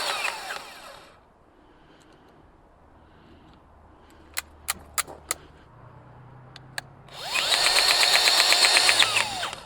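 A Seesii cordless grease gun set to level 6 runs in a loud, steady motorized whir near the end, after a few sharp clicks and a brief burst of the motor at the start.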